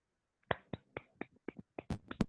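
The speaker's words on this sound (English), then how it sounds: "Claps, claps to everyone." A short run of about nine sharp hand claps, spaced a little irregularly, rings out close and clear against silence at the end of a group meditation session.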